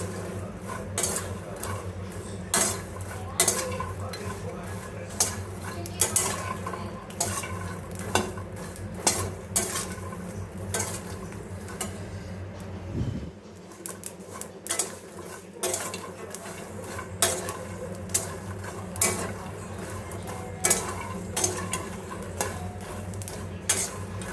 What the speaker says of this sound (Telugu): ఇవి వచ్చేసి క్రిస్పీగా వచ్చేంతవరకు మనం ఫ్రై చేసుకోవాలా.